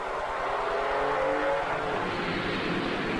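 Race cars roaring around the Enduroseries circuit in Toronto, a steady loud engine drone with cars passing and revving throughout, no talk over it.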